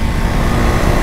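Engine of a 2024 KTM 390 Duke motorcycle, a steady, loud, dense drone with no gaps, close by and without voices for about a second.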